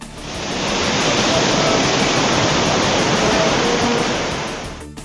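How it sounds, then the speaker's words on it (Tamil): Rushing floodwater at the Panchalinga waterfall on Thirumoorthy hill, spilling around the Amanalingeswarar temple, a steady loud broadband roar with no break, fading in and out at the edges. "திருமூர்த்தி மலை பஞ்சலிங்க அருவியில் ஏற்பட்ட வெள்ளப்பெருக்கால் அமனலிங்கேஸ்வரர் கோயிலை சூழ்ந்த தண்ணீர்."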